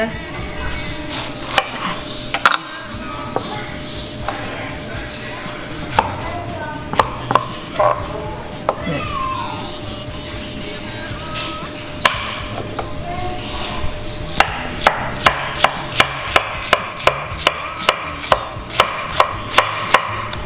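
Sharp knife chops pineapple on a board, scattered at first and then a fast steady run of strikes, with a steady kitchen background.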